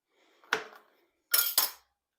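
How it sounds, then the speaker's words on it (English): A knife chops two small home-grown peppers on a board in a quiet kitchen, giving one crisp cut followed by a quick pair of sharp clacks, close and clear. "Next, I'm going to chop up my 2 little peppers."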